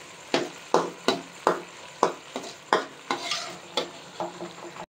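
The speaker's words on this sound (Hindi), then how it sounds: "इसको हमने हल्के चूल्हे पे भूनना है, तेज चूल्हा नहीं करना, ये जल जाएगा।" A pan of milk being roasted for suji halwa on a low flame, with about a dozen rhythmic scraping stirs of a spoon against the pan over a soft sizzle, close and clear with no talking.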